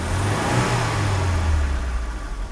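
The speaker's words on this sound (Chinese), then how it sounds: "大哥来做个提速" A Mercedes W123 230CE engine, just back from a fuel distributor repair, revs steadily under test, a loud, close, low rumble that swells and holds without a break.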